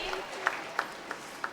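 A few sharp hand claps at an evenly spaced, steady rhythm, brief and moderately close, honouring guests at the 55th annual gathering of a Catholic women's association, over a low hum of room noise.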